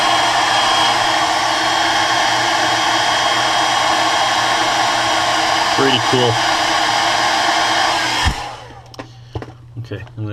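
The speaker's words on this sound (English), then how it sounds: "Let's get the hair dryer." A hair dryer blows steadily at close range while drying crackle paint on a crankbait fishing lure, then cuts off near the end, leaving handling noises and a brief spoken remark.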